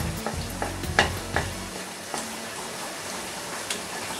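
Sugar-free halwa thick with ghee is stirred and sautéed in a pan: a few close scraping strokes of the spoon at first, then a soft, continuous sizzle with light knocks, no voices.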